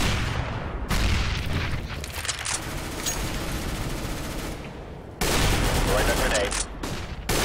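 Grenade blast and rapid gunfire from a Counter-Strike: Global Offensive ranked match, loud dense bursts crashing through the whole clip with a fresh burst near the end, while players talk over it.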